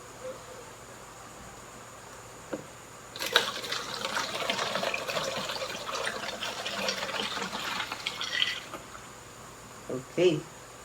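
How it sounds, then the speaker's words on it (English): Water tinted with red food coloring poured into a bottle for a pumping heart model, a close, steady trickling pour for several seconds, with brief handling knocks before and after. "Next is to put the water here filled with red food coloring"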